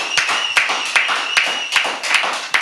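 Hand clapping, a quick run of sharp claps at an uneven rhythm, close and loud, with a little background voice.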